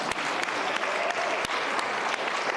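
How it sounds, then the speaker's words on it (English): A school board meeting audience claps, a sustained burst of applause with a few sharper, louder claps standing out near the listener throughout. "Clap for that."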